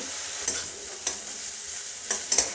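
Potatoes frying in oil for a Bengali khesari greens dish, a steady soft hiss with a few sharp scraping stirs of a spatula, close and moderately loud with no talking.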